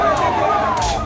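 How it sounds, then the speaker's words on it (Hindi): Police vehicle sirens wail through a city at night during street unrest in Jodhpur, a gliding tone sweeping down over a dense, loud background of crowd and traffic noise. "सायरन बजा के पुलिस की गाड़ियां दौड़ती रही।"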